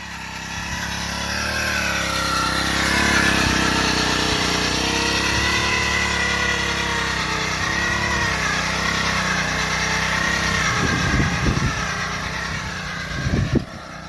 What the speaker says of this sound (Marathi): या मशीनच्या साहाय्याने भर लावून चालू आहे